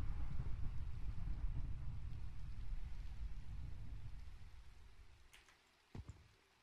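Steady rain falling in a Minecraft game world, a broad even hiss that gradually thins out, followed by a couple of short sharp knocks near the end.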